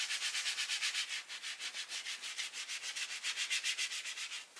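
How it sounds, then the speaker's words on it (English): A stiff brush scrubs a leather BMW steering wheel with Colourlock strong cleaner, a fast, even rhythm of bristly back-and-forth strokes repeating steadily throughout, close up with no talking. "we're gonna take some Colourlock strong cleaner and Colourlock brush"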